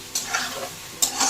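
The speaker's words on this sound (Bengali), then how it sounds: "কষানোটার সাথে একটু ডিমটাও কষাই" Egg being sautéed with spiced curry and turmeric in a pan, a short burst of stirring and scraping over a steady sizzle, with two sharper strokes of the spoon a second apart.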